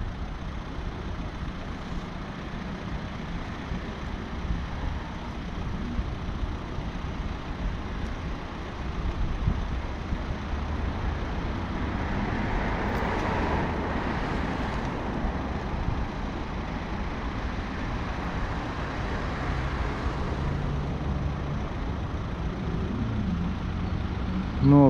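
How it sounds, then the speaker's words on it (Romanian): A local police car in Bucharest's Sector 5 sits parked on a sidewalk with its engine left running, giving a steady, moderately distant idling drone under street ambience for the whole stretch. "Nu oprește motorul."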